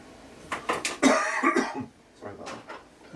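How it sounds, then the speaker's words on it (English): A tickly cough from one person, a cluster of short dry coughs and throat-clearing bursts, close and fairly loud, followed by quieter breathy coughs. "A bit of a tickly cough."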